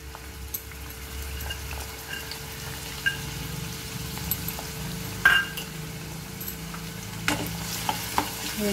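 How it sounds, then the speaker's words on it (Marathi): Bay leaf and finely chopped onion fry in hot oil while being stirred, a soft steady sizzle with occasional spoon clinks against the pan, close by. "आता आपण ह्याच्यात घालणार आहोत हा तेजपत्ता आणि बारीक चिरलेला कांदा।"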